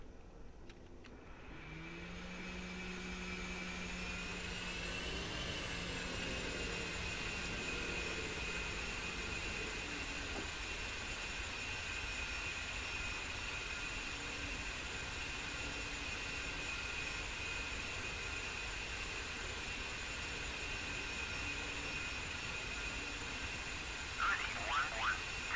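A-10A jet engines in a DCS flight simulator while the aircraft taxis, a steady high whine and turbine drone held evenly throughout, faint and continuous, with a brief shift in pitch early on.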